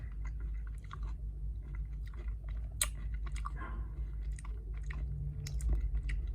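Close, crisp bites and steady wet chewing of a Wall's Ovaltine chocolate-coated ice cream bar topped with crunchy Ovaltine malt pieces, with loud crunches standing out over continuous mastication and no talking.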